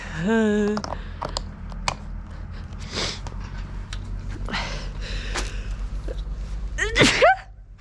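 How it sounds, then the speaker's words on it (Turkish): A man who has caught a chill sneezes sharply at close range amid scattered clicks, knocks and other small sounds, with a loud vocal burst near the end. "Bütün video böyle hapşırıyormuş."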